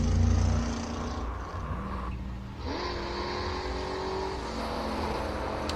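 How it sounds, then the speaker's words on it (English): Chevrolet Corvette Stingray launching on a hillclimb run at Simola, a loud engine roar that dips briefly, then climbs steadily in pitch as it accelerates away, with no talk over it. "First time we've seen the First run for Corvette."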